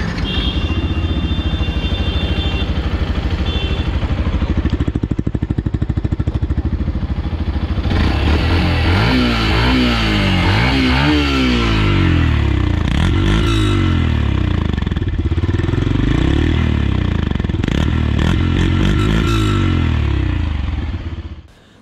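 A Yamaha FZ-X motorcycle engine idles with a steady low throb, then revs up and down repeatedly in rising and falling bursts, close and loud.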